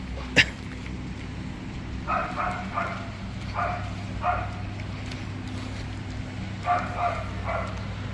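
A neighbouring house's dog barks in short bursts several times at a moderate distance near farmland, heard over a low steady hum, with a sharp knock near the start.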